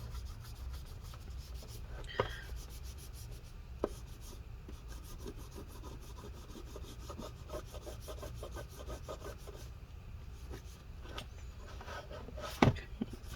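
A part inside an HP Envy x360 13-y013cl convertible laptop is scrubbed clean with rubbing alcohol, giving faint, steady rubbing and scraping strokes with a few small knocks, close and quiet, without talk.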